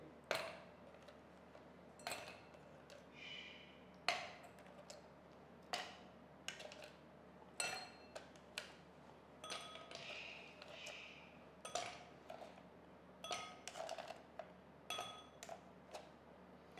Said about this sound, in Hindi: सबसे पहले आइस क्यूब शामिल करेंगे।